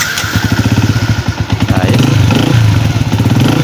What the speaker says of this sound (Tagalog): tumining na yung tunog ng kanyang makina